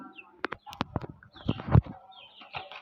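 Chicks or hens from a home flock kept without vaccines cluck and chirp in a few short, close bursts, with a brief louder flurry near the middle.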